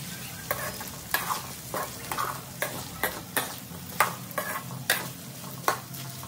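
Potato pieces frying in oil in a pan, stirred with a utensil that knocks and scrapes at a steady, irregular pace over a soft continuous sizzle, close and alone without talk.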